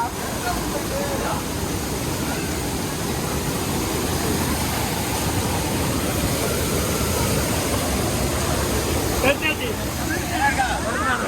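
A small waterfall in the Goundaru hills near Courtallam during heavy rain gives a continuous, loud broadband rush of falling water, with a brief voice near the end.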